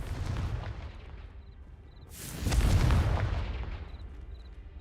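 A Confringo fire spell goes off in Hogwarts Legacy: a heavy booming blast with a roaring burst about halfway through, over low rumbling game ambience and faint chimes, with no talk.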